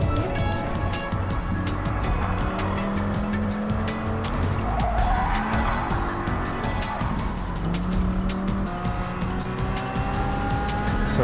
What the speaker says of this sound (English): this is the Need for Speed edition of the Dodge Viper GTS.